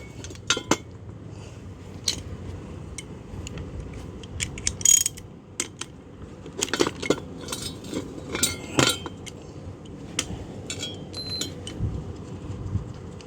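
Metal parts of a car starter motor being taken apart by hand in an auto air-conditioning repair shop: scattered clinks, ratcheting clicks and gear rattles in irregular bursts, close up over a low steady background hum, with no talk.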